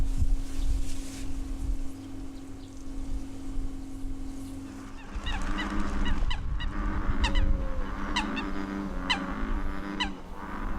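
Eurasian coots calling loudly in a territorial dispute on a lotus pond, repeated sharp honking calls that grow busier and overlap in the second half, with steady background noise throughout.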